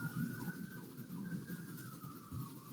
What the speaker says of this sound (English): I can hear the sirens there.